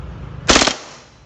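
A single loud, close, sharp burst from a WE gas BB pistol at a shooting range lasts a fraction of a second and fades quickly into a quiet background.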